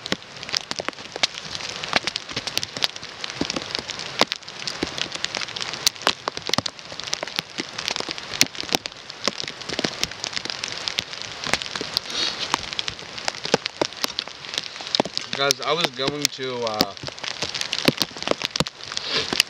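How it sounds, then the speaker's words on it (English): Freezing rain pelts a winter bushcraft camp shelter during an ice storm, a dense steady patter of drops with sharp close ticks throughout, and a voice briefly speaks near the end. "It's freezing rain really bad"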